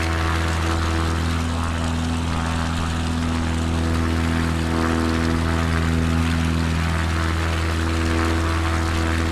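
A small propeller plane in flight in Microsoft Flight Simulator 2024 drones steadily, a loud, even engine and airscrew hum with a strong low tone and no talking.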